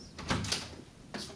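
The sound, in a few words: door opening or closing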